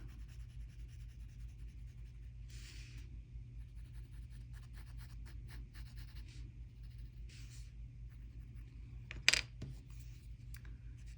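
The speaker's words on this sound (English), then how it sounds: "So I'm putting this pencil right along the inside edge, just giving it a nice little bit of graphite." A pencil lays graphite along the inside edge of a drawn frame in a Zentangle-style sketch, with soft, faint scratchy strokes in short bursts over a low steady hum and one sharper tap near the end.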